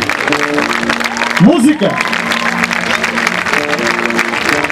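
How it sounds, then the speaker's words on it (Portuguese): Applause from an evening concert audience greeting a young singer, a broad steady crackle of clapping running throughout, with a voice speaking and singing-like tones over it. "O vosso grande aplauso."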